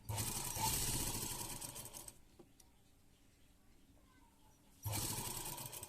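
Sewing machine stitching lace onto a round neckline, loud whirring bursts at the start and end with a quieter pause between, and someone speaking Punjabi at times.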